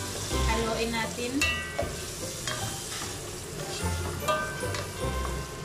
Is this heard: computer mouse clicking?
no